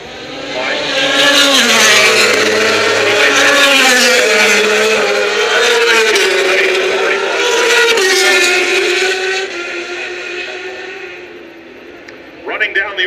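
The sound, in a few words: MotoGP racing motorcycles passing Laguna Seca turn 11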